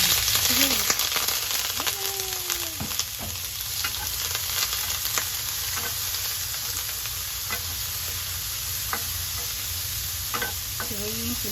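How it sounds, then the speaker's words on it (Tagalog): Shrimp fry in hot oil with garlic, giving a steady, close sizzle and crackle throughout, with occasional clinks and scrapes of stirring. "Ilagay na yung shrimp para medyo maglasang garlic din siya."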